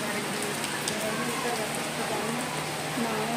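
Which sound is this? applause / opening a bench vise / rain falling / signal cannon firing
rain falling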